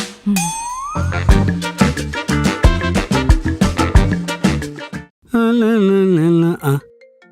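A melodic electronic phone ringtone plays: a quick run of bright chiming notes, a short pause, then a sustained warbling electronic tone.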